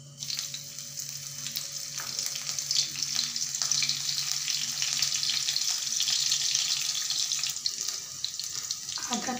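Cumin seeds and chopped green chillies fry in hot oil in a pan, giving a steady bright sizzle that holds at even loudness throughout.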